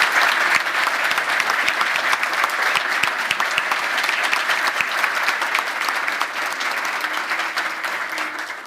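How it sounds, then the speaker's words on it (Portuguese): Sustained applause from a conference audience at a closing business panel, dense steady clapping throughout with no talk over it. "Uma salva de palmas para essa gente"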